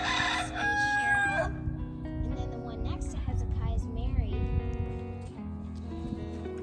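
A rooster crows on a roughly five-acre country property at the edge of the suburbs, its call rising above steady conversation and background sound.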